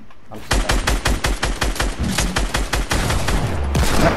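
Rapid automatic gunfire rattles in a shooting video game, loud and close, with a steady stream of shots that briefly pauses and then resumes in longer bursts.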